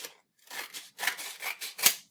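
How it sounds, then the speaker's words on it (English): Scissors snip through a folded sheet of canvas primed on one side, a series of close, crisp cuts in quick irregular bursts with a sharp final snap. "I'm going to cut it in half"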